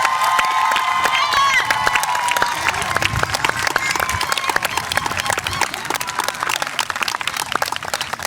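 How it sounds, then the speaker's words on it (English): A school auditorium crowd applauds and cheers for the new Hudson High 9th grade class at an 8th grade moving-up ceremony: dense, steady clapping with shouts and whoops, loud and close, lasting throughout. "Give them a round of applause."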